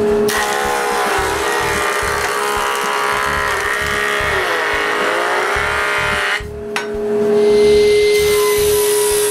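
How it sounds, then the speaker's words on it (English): Jointer planing adjacent faces of wood straight for drawer construction, a loud steady whining cutter with rhythmic chopping pulses as boards pass, briefly cutting off near the end before spinning up again. "I make 2 adjacent faces straight on the jointer"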